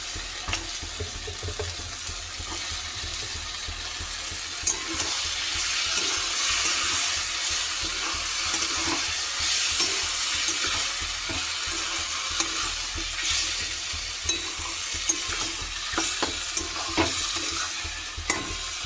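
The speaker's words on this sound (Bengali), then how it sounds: "চিকেনটা দিয়ে কষিয়ে নেবো" Chicken frying in a pan as it is stirred, a steady broadband sizzle with scraping spatula strokes and occasional clicks running throughout, close and fairly loud with no talking.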